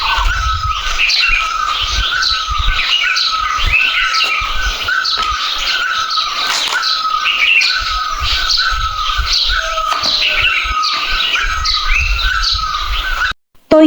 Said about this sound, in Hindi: यहाँ अर्ली मॉर्निंग की चिड़ियों की चहचहाट क्या ही मन को मोह लेने वाली होती है